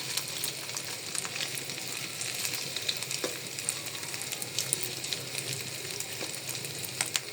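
A single egg sizzles in heated oil, an even crackling fry with scattered sharp pops, close by and continuous, and no voices over it.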